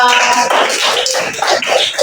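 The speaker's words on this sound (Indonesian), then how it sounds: "Tepuk tangan dulu kita." A classroom of children claps together in a dense, continuous burst of many overlapping hands, close and fairly loud throughout, with voices mixed in.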